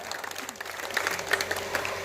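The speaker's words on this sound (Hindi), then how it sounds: "एक बार ताली बजाओ और मजा आ जाए।" An audience claps at a live stage performance, a fairly soft, steady patter of applause held for about two seconds.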